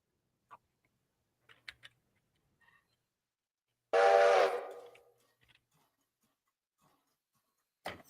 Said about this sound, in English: hear that passenger train taking off